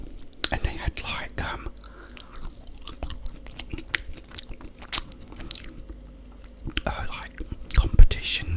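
Crunchy bites and wet chewing of fried chicken drumsticks and fries with gravy, close and intimate, with soft whispered talk between the mouth sounds.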